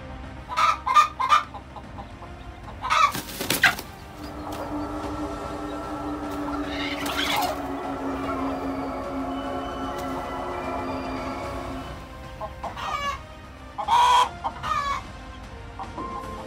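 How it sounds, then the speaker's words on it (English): A chicken guarding its eggs from a snake gives agitated clucks and squawks, bursts of calls at the start and the end with a quieter stretch of steady background noise between them. "chicken is also protecting its eggs from a snake"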